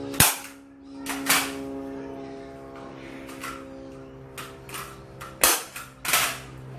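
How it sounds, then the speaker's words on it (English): A staple gun fastening carpet to the floor of a tinny boat, firing several sharp, loud clacks at irregular intervals over a steady hum, close up. "And then just roughly staple it. Get it as tight as you can."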